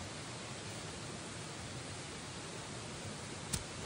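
A river flows steadily beside an outdoor survival spot, a close, continuous rush of water with an even wash throughout and one brief sharp click near the end.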